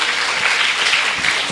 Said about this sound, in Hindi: जोरदार ताली होना चाहिए सब इस पर।